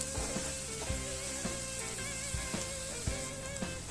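Masala frying in oil in a pan for anda bhurji, with a dense, continuous sizzle and crackle up close, and background music playing alongside.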